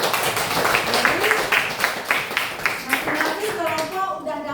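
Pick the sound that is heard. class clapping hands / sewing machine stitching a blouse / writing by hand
class clapping hands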